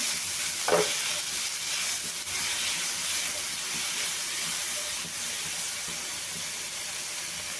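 Green chili, cumin and ginger sizzle and fry in a pan for upvas medu vada, a steady close hiss of frying with a brief stir-scrape early on and no talk over it.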